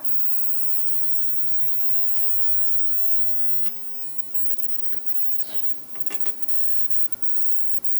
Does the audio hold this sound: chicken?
no